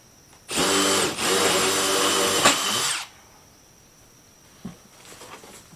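A power drill whirs loudly and steadily for about two and a half seconds while drilling into a wall, then stops, followed by quiet room noise and a faint knock.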